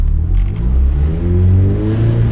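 A Honda car engine revving hard, starting from a low idle rumble and climbing in pitch through a sustained, loud rev with no talking.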